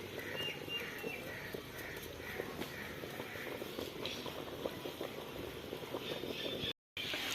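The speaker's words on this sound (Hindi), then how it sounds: "पानी हमारा पक चुका है" Water boils in a pot for vegetable pulao, a soft, continuous bubbling and rolling simmer heard close but faint, with a brief dropout near the end.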